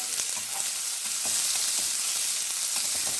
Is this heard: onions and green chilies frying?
yes